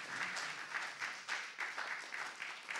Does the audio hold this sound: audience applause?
yes